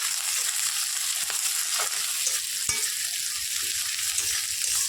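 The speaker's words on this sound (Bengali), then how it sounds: "এবার একটু ভেজে নিই" Potatoes, garlic, onion and green chilli frying in a wok, a dense, bright, steady sizzle with a few faint scrapes of stirring, close and uninterrupted.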